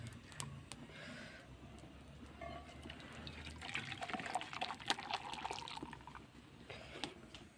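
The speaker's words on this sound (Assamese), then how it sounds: "এতিয়া মই চাহখিনি উলিয়াই দেখাম।" Tea is poured out of a bottle in a faint, thin trickling splash of liquid, with a few small clicks and knocks around it.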